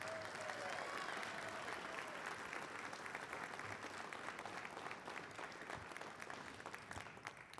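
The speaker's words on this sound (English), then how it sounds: "Let's give this team a round of applause." Crowd at a high school Hall of Fame induction ceremony clapping for an inducted team, a steady, fairly quiet round of many hands that tapers slightly toward the end.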